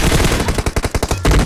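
Rapid automatic gunfire from a shooting video game in an anniversary event mode bursts in a fast, even stream of close, loud shots, ending in a short pause and a final thump, with no voices.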